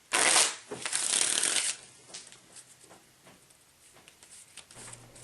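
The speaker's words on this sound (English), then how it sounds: "Now give the deck a good shuffle." A deck of Coloretto game cards is riffle-shuffled on a tabletop: a loud, dense burst of flapping cards at the start, then softer shuffling and light tapping as the deck settles.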